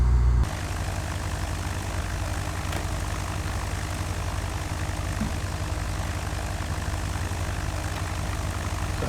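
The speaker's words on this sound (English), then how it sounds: "We're just going to taxi over here to the left where we started out." A propeller aircraft in the FSX flight simulator video game taxis at a steady, continuous engine drone with a low idling rumble. The level stays even throughout, with no talk.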